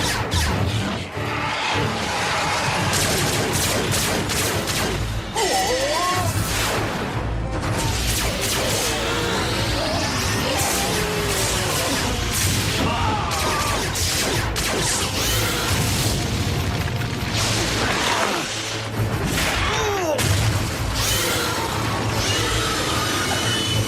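Animated robot battle from Transformers Prime Beast Hunters, with loud sustained blaster fire, booms, crashes and whooshing mechanical clatter running continuously, dense and close, with little speech.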